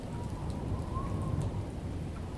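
Steady rain pours down as a storm background, with a dense broadband hiss of drops on surfaces and a faint low rumble, continuous and fairly loud with no voices.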